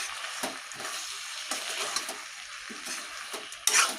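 Chopped tomatoes fry in a pan for chicken meat curry while a utensil stirs them: a soft, steady sizzle with intermittent scraping strokes and a brief metallic clink near the end, close and moderately quiet.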